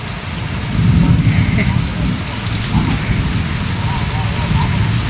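Heavy rain pours steadily and loudly while low rumbles of thunder roll through beneath it, continuing for several seconds.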